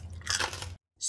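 Crispy pork belly dipped in chili sauce, bitten into with a loud close crunch, a brief crackling burst of chewing followed by a short silence and another quick crisp bite.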